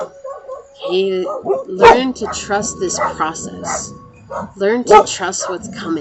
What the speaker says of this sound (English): You guys might hear my dogs barking.